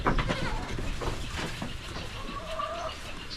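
Goats bleat in a farmyard among a continuous rustle of background noise, with a drawn-out bleat standing out near the end.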